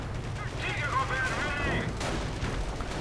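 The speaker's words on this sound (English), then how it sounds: "anti-tank gun firing, and again another blitz assault against an MG" An anti-tank gun fires during a World War II strategy game battle. A sharp blast near the end cuts through a dense bed of distant combat rumble and whistling effects.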